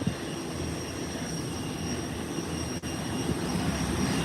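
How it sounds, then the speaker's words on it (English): An ATR turboprop airplane roars steadily during its takeoff at Howard Hamilton International Airport. The engine drone is loud and broadband, with a sustained whine and a brief dip partway through. "here's the ATR for the person who was asking. You're gonna see a beautiful takeoff here now."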